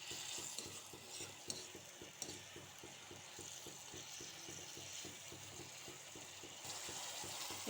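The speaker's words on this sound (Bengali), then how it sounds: "এটা যতক্ষণ না তেল ছাড়ছে আমি এইভাবেই নাড়াচাড়া করতে করতে কষাতে থাকবো।" Boiled mutton trotters with their stock being stirred in oil for a paya dish, a rapid regular scraping of a spatula against the pan over a soft bubbling sizzle, close and steady with no talk.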